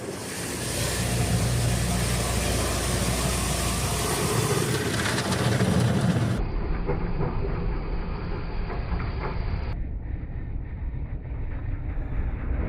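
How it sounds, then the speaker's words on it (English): An old automatic car wash sprays and scrubs a Volvo V70 with a loud, continuous rush of water and brushes that suddenly drops to a quieter, duller hiss partway through. "Now for the real test, the old car wash."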